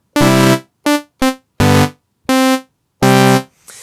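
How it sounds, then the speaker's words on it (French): A Massive X synthesizer init preset plays a bright, buzzy sawtooth wave as six separate sustained notes of varying length, each starting and stopping cleanly with short silences between them. "c'est le son d'une sawtooth"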